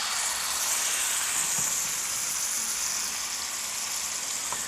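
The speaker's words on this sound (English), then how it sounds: "you guys should hear this nice sear" Pork loin searing in butter in a pan, a steady close hiss and sizzle with no breaks, fairly quiet and even throughout.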